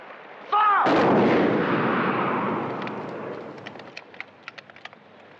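A firing squad fires a single sharp rifle volley that booms loudly and echoes away over several seconds, followed by faint scattered bird calls.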